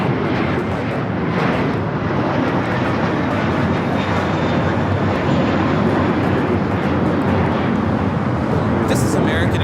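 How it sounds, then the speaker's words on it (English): American Airlines A321 jet taking off at Los Angeles airport, a loud, dense engine roar that holds steady throughout, with voices speaking over it. "This is American Airlines 238 taking off to JFK on the A321"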